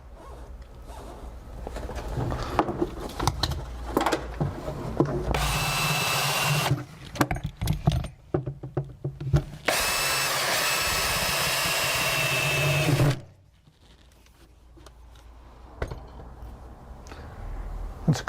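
A power drill bores bolt holes for a Terrafirma winch bumper on a Land Rover Defender, running in two long loud sustained bursts with shorter stuttering trigger pulses between, close up and without talk.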